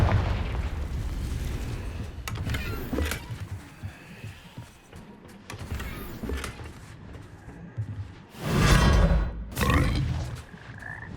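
A Confringo blasting spell explodes in Hogwarts Legacy: a loud, booming burst near the end with a second blast close behind, over a steady rumble of game ambience.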